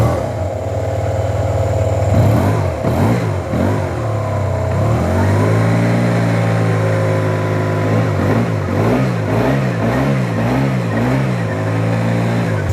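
A Yamaha TMAX maxi scooter engine idles steadily up close, low on fuel, with its pitch rising and falling in a few blips of the throttle partway through.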